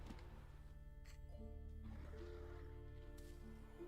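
Horses whinny a couple of times in The Witcher 3: Wild Hunt, over a constant low hum and background music-like drone, fairly clear and close.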